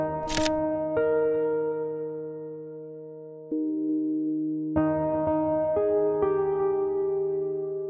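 Several sharp camera shutter clicks during sunrise photography in Prague, spaced over a few seconds, heard over a steady sustained tonal hum.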